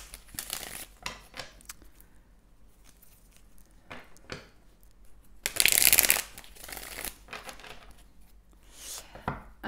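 Tarot cards being shuffled by hand, soft riffling and slapping bursts scattered across the span with one louder, fuller riffle in the middle, close and fairly quiet.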